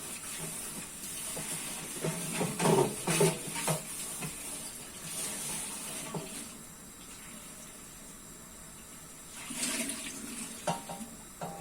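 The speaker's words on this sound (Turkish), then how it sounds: "Hemen de tepsiyi yıkayayım burada." Running tap water splashing over a baking tray being washed at a kitchen sink while making Turkish manti, with hissing flow and bursts of clatter and splashing, loudest in two stretches near the start and near the end.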